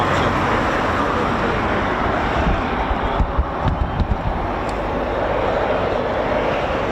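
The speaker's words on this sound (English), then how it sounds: "Just about see that Typhoon down there. It is taxiing for the capture." A Eurofighter Typhoon FGR4 jet taxiing at RAF Coningsby, heard as a loud, steady broadband engine roar from a distance, constant throughout with slight fluctuations.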